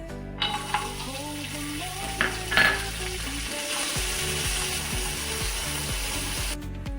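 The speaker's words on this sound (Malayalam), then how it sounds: "ചൂടായ നെയ്യിൽ അണ്ടിപ്പരിപ്പ് വറുക്കുക." Cashew nuts frying in a spoonful of hot ghee in a pan while making homemade laddu, a steady close sizzle with scattered metallic scraping and clicking from stirring throughout.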